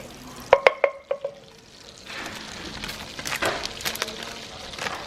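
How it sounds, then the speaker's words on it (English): Several bright metallic clinks and taps of a utensil against a pot come first, then hot curry powder fries in olive oil and butter with a crackling sizzle and stirring scrapes, close up with no talking. "So I'm gonna put some curry in it and burn it off a little bit"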